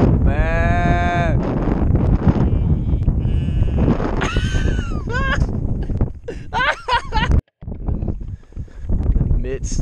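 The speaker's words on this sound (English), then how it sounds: "I'm surrounded by freaking goats" Goats bleat repeatedly nearby in UK fields, wavering cries overlapping from several animals, with wind buffeting the microphone and a person speaking briefly.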